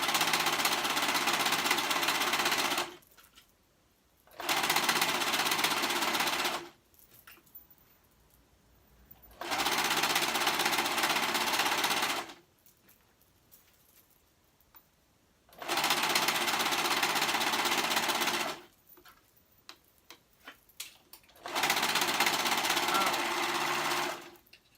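A serger stitches fabric in four rapid whirring bursts of a few seconds each, separated by pauses filled with faint handling noises. The machine sounds close and loud.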